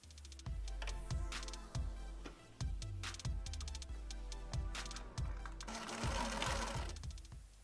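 Close, rapid stitching from a sewing machine sewing a French seam, in short runs with brief stops, the needle's fast rhythmic clatter clear and steady.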